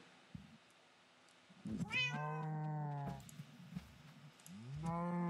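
A cat in Minecraft meowing: two drawn-out, tonal meows, with a pause between them, close and clear against a quiet background.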